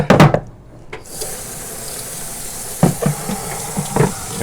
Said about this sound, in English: Just going to let a little warm water run down this thing.